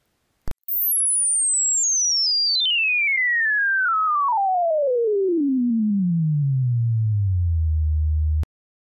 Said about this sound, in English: as you move up, you'll hear the tone go up until it goes up so high that you almost can't hear it anymore